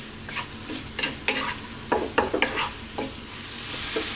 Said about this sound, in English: let's get this cooking, throw it around in the pan for about 3 minutes